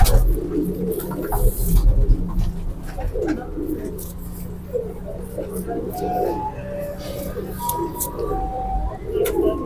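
Pigeons from Sialkot cooing repeatedly in low, throaty rolls close by, with steady background murmur and some handling noise.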